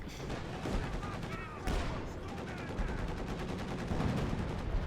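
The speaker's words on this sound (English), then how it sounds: "Quick artillery strike call in here on the MD-34." Artillery shells and gunfire pound a Company of Heroes 2 battlefield in a continuous rumbling barrage, with one heavier impact standing out, all dense and loud with little pause.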